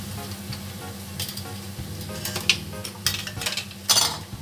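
Potato popcorn pieces fry in hot oil after being put back into the pan for a second, crispier fry. A steady sizzle runs throughout, broken by scattered sharp clinks and scrapes of a utensil stirring against the pan.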